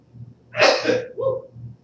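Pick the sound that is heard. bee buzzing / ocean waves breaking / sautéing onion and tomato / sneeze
sneeze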